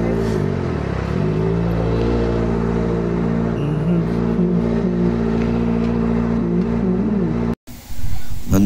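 A Kawasaki ZX-4RR motorcycle engine running loud and near, with a sustained high-pitched whirring tone that climbs and holds through repeated revs, then cuts off sharply.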